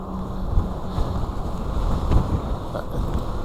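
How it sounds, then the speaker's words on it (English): Strong gusty wind buffets the microphone while cycling on a Wired Freedom e-bike, a steady low roar with rumbling bumps throughout. "This wind is crazy."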